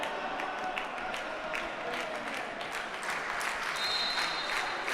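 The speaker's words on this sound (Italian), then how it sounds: "Partono gli applausi del Paladante" The crowd at the PalaDante futsal arena breaks into loud, sustained applause late in a match. A thick wash of clapping fills the hall and swells slightly toward the end, with a faint whistle-like tone above it.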